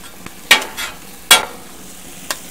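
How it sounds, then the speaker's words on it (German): Minced meat and onions cook on a Weber gas grill, with a low background sizzle broken by a few sharp spatula scrapes at uneven intervals, close and without speech. "jetzt wenn das Hackfleisch angebrutzelt ist, haben wir die Zwiebeln drauf"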